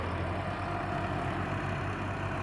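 Ford 6600 farm tractor engine idling steadily on a farm during earthmoving work, a continuous low rumble with a faint rhythmic pulse, close and even throughout with no talk.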